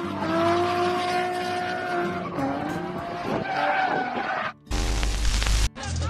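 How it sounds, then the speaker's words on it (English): A Lamborghini drifts on mountain roads, tires squealing in long sustained screeches over engine roar, followed by abrupt bursts of loud engine noise. "Drifting like this around the mountains might not be the best idea"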